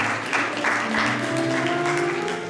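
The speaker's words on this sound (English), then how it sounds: "give yourselves a hand clap for that." A church congregation gives a steady wash of hand clapping under sustained organ or keyboard chords, loud and continuous for a couple of seconds.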